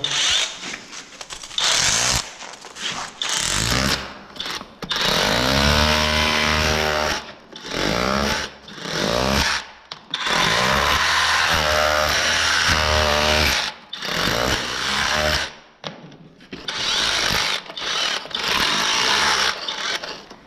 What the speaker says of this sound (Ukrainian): вибиваємо всі залишки цегли перфоратором